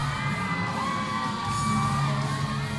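Wrestling crowd at a Red Rock Wrestling event cheering, whooping and yelling, a continuous roar of many voices with rising shouts, heard from ringside at moderate level.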